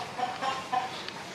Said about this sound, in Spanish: ¡Ay, qué gallo tan chulo!